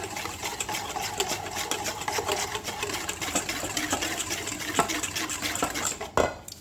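A salad dressing is beaten briskly in a bowl, giving a steady, wet, rapid whisking and sloshing that runs continuously at close range before ending in a short clatter.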